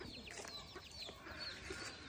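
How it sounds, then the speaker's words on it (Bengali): A chicken in a village clucks in short, quick bursts nearby against faint ambient background, brief and fairly quiet. "এই যে দেখছো মুরগি, আর মুরগি কাছে যায় না"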